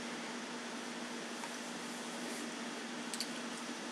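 A compressed-air DA sander runs on a headlight lens with 500 grit paper, wet sanding. It makes a steady, hissing whir with a constant pitched hum, fairly faint and unbroken, with no voices.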